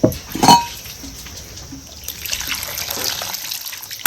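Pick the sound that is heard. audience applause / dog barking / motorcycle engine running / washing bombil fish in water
washing bombil fish in water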